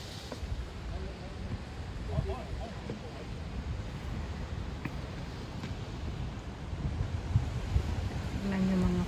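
Waves wash and crash against the rocks at Cape Collinson bay. Broad surf rumble mixes with wind buffeting the microphone, and a few faint sounds turn up near the end.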